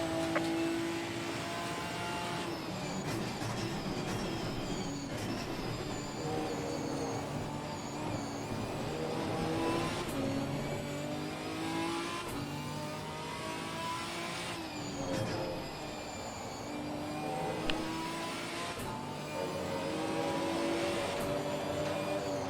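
Ginetta G55 GT4 racing engine in Assetto Corsa Competizione, revving up and down repeatedly through gear changes and corners, a continuous busy engine drone with rising and falling pitch and no voices.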